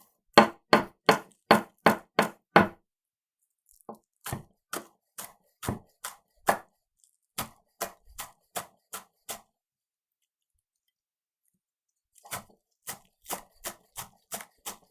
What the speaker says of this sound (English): We'll get our green onions chopped up